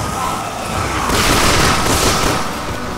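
Gunfire in the Resident Evil 6 game, a dense, continuous crackle of loud shots and booms swelling in the middle, with no clear gaps between reports.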